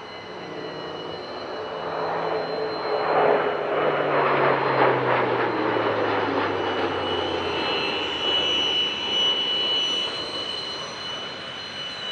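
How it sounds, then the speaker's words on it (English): An Airbus A400M with Europrop TP400 turboprop engines flies past at an airshow, a loud sustained engine roar with a slowly falling drone that stays strong throughout the pass. "A400M had to be fitted with specially developed Europrop TP400 engines, the most powerful turboprop engine ever produced at the time of its inception."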